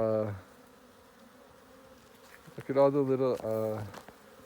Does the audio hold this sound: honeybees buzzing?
yes